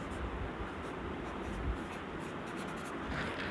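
A pen writes dimensions onto a civil engineering drawing of a steel roof truss, making faint, continuous scratchy strokes close to the microphone in a quiet room.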